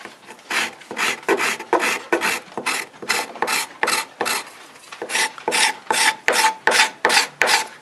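A hand scraper rasps across ash wood end grain in about eighteen rhythmic strokes, each a short, bright scratching pass, close and alone with a brief pause midway.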